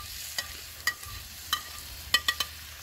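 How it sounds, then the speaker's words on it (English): Venison with pre-cooked vegetables stirred in a cast iron pan gives a soft continuous sizzle, broken by a handful of sharp clinks and scrapes from a utensil against the pan. "now I'm gonna add the vegetables that we had already pre-cooked,"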